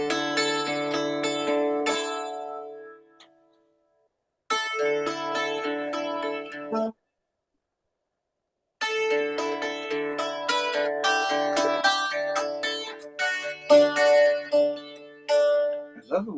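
A dulcimer plays the tune Cornwall in double stop chords, bright plucked phrases that ring and then stop for short gaps, fairly close and moderately loud, with no talking over the notes.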